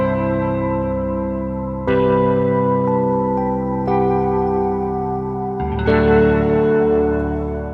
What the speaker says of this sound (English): the electric piano has a really big reverb on it as well